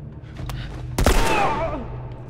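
A single sharp gunshot goes off in The Last of Us Remastered, followed by a short ringing decay over a low game ambience.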